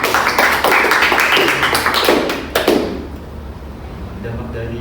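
A group in a classroom counselling session claps hands together in dense, loud applause that lasts a couple of seconds and then dies away into quieter room noise.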